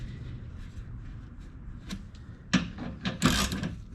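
A ratchet clicks in short bursts while backing out core support bolts on a Toyota Tundra front end, close and crisp, with a few louder metallic clacks near the end.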